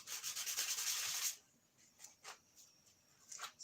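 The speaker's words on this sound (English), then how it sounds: "Sand down this rough edge." Sanding down a rough edge in a workshop: a loud, steady scraping rub for about a second and a half, then a few shorter, quieter strokes follow with pauses between.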